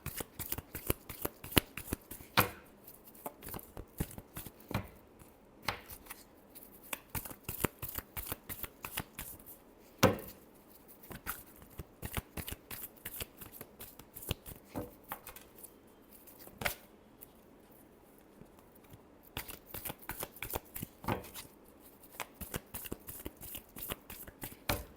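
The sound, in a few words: shuffling tarot cards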